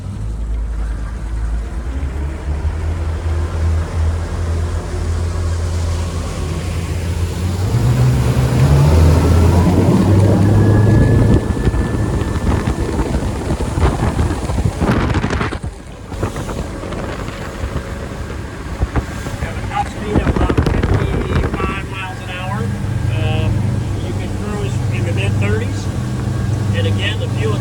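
A 2023 Aquila 28 Molokai power catamaran runs on choppy water, its engines droning steadily under heavy wind buffeting and water rush, with brief drops in noise and a person speaking over it.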